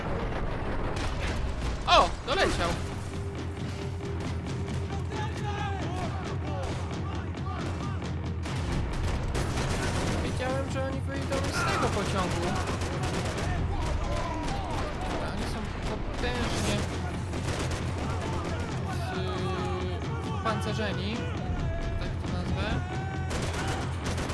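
Scattered gunshots and mechanical clatter from Max Payne 3, in an airport shootout, sound throughout, with an excited voice talking over the action.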